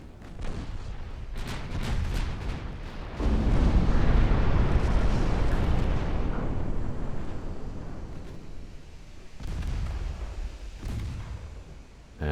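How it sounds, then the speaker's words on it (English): A warship's ammunition detonates in the naval battle game Ultimate Admirals: Dreadnoughts, a deep, rolling explosion that swells to a long, loud roar and slowly fades, with distant gunfire thumps before and after. "And a bit of ammo detonation."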